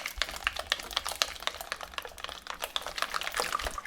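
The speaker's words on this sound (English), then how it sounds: "whisk away along with about a cupful of cream" Coconut essence being whisked into full fat cream in a bowl, a steady quick clatter of whisk wires against the sides with a wet, sloshing edge, close and continuous with no talking.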